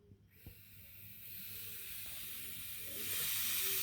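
Steady air hissing from a radiator bleed valve as it is opened, building and growing louder toward the end, with a few faint knocks early on.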